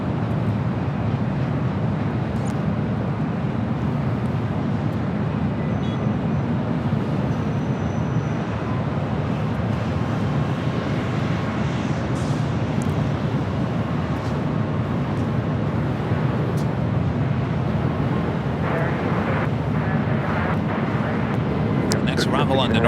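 An Air France Boeing 777-300ER jet airliner at LAX produces a broad, steady roar that stays loud and constant from start to finish, with wind buffeting the microphone and no clear voices over it.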